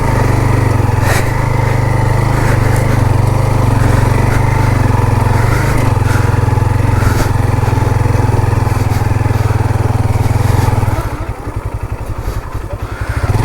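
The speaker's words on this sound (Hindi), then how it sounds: "क्योंकि ये सारी मट्टी है, बाइक काफ़ी धस रही है।" A motorcycle engine revs hard and steadily while stuck in mud, loud and close, then drops to a rougher, chugging sputter near the end.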